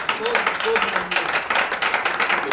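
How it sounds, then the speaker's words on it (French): Dense clapping from a crowd at a political youth gathering, fairly loud and continuous, with a voice faintly mixed in. "J'aimerais qu'on applaudisse d'abord pour Joseph Kabila"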